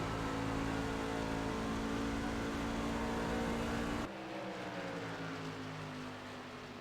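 Race cars lap Homestead-Miami in a racing video game, a loud sustained engine drone that drops abruptly partway through to a lower, quieter whir.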